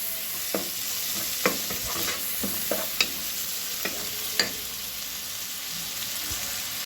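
Duck gizzards sautéing in a pan, a soft continuous sizzle broken by several sharp clicks and scrapes as a utensil stirs them, close and with no speech.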